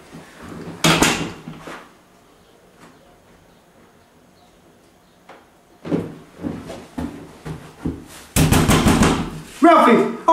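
Someone knocks on a door in a home setting: one burst of raps, a quiet gap, then several louder rounds of knocking mixed with people's voices.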